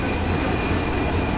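Padma Express on the Dhaka–Rajshahi line rolling through a deserted North Hyderabad station late at night, giving a steady, close rumble of rail noise with no break and no voices.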